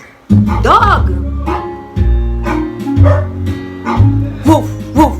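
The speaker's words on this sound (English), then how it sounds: "Woof, woof, woof. Dog." A dog barks repeatedly in short, bouncy bow-wow bursts at a steady rhythm, close and fairly loud, with a voice speaking over it.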